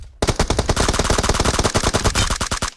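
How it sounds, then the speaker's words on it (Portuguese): A rapid burst of automatic gunfire from the mobile game PUBG Mobile plays as dozens of sharp, evenly spaced shots in quick succession, loud and close, with no talking. "escutei um tiro aqui"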